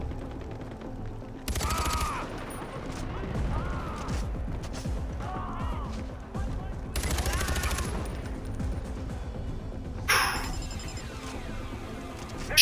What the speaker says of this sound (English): situation kind of calls for a shotgun.